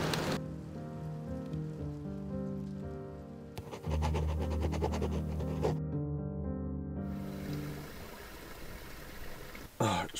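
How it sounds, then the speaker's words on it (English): Steady hiss of heavy rain pattering on a surface, with tonal music playing over it throughout. "Oh, it's been raining so heavy today."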